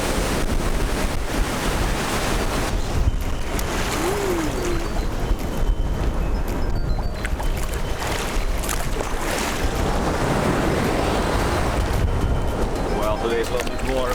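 Ocean waves at Dahican beach in Mati, Mindanao, Philippines, rolling in as a steady, loud, close wash of surf with wind buffeting the microphone, while people talk over the sound in places.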